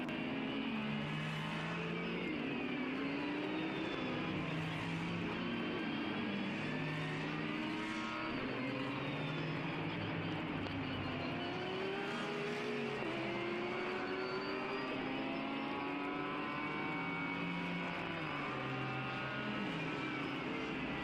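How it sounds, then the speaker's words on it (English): A flat-six Porsche race car engine whines and howls continuously at high revs around Okayama circuit, gear changes and shifting pitch sweeping over a steady roar from trackside. "Lovely to hear the sounds of the flat six Porsche whining around this Okayama circuit"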